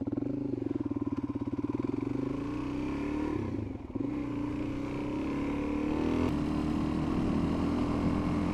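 Suzuki DRZ 400 motorcycle engine running steadily while riding, a close, continuous buzzing drone with a brief dip in the middle before the revs build again, heard alone without talk.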